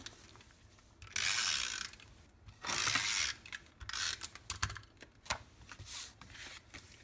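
A snail adhesive tape runner rolls glue onto designer paper for a handmade card in two long, smooth scraping strokes, followed by lighter clicks, taps and paper handling up close.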